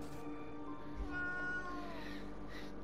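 A cat meows once in the Moonscars video game, a clear drawn-out meow that rises and then falls, heard alone over a quiet ambient background hum.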